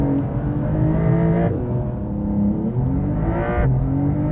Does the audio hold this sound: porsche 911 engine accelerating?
yes